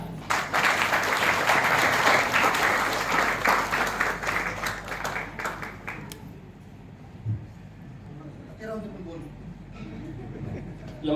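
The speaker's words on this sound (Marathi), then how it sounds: "ओंकार कदम जोरदार टाळ्या." Loud applause from a gathered audience at a training event, honoring Omkar Kadam; a dense, steady wall of clapping for about six seconds, then fading to scattered claps under background murmur and a speaking voice.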